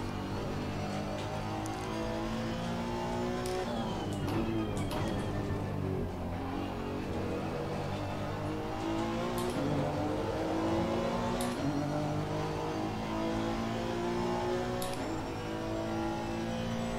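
A Ferrari race car on worn tires screams through a racing game lap, its engine rising and falling through repeated gear changes and revs with sharp upshift blips, loud and close with no talk.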